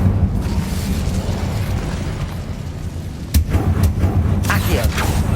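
An Incendio fire spell cast in Hogwarts Legacy bursts with a loud whooshing flare and crackling, following a roaring rumble, with a voice calling out over it.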